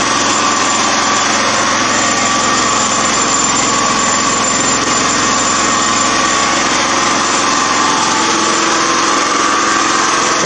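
Phoenix Gasser engine fitted with a new nozzle design runs hard and steady, a loud continuous high-pitched buzzing roar with no letup, close and alone without talk.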